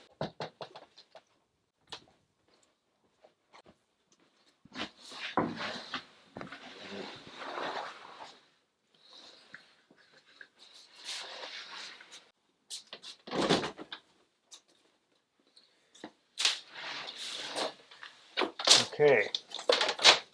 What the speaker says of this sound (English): we're going to open the door.